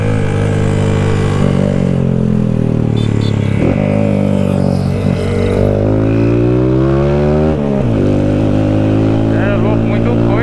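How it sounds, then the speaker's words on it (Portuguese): Modified Fan 190 motorcycle riding through a night-time traffic jam among many cars and motorbikes, its engine loud and near, with revs climbing and dropping in sweeping pitch changes while a voice talks over it. "Muito carro, muita moto."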